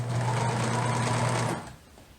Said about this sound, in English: Still sewing 3 threaded instead of 4